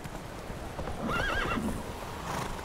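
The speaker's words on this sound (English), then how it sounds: "Go, horse!" A horse in The Witcher video game gives a clear whinny mid-clip over steady clip-clopping hooves, close and fairly loud, with no voices heard.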